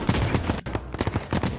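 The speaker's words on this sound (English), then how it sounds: "Missed all my shots." Bursts of rapid gunfire crackle in the shooter game The Cycle Frontier, a dense volley of close, loud shots with a brief gap mid-way before more quick reports follow.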